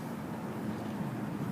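Steady wind blowing outdoors during a BB gun shooting session, a constant broadband rush with low rumble buffeting the microphone, moderately faint and unbroken, with no talk.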